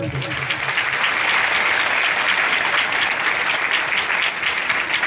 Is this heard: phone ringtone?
no